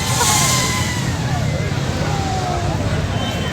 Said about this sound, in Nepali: यो चाहिँ हाम्रो ड्रोन रेसिङ भनेको यही हो है।